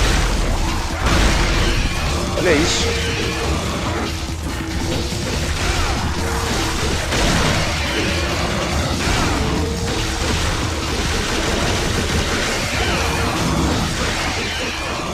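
Grenade launcher blasts in Devil May Cry, a steady stream of loud bursts, crashes and booms over busy game noise, with a brief voice heard early on.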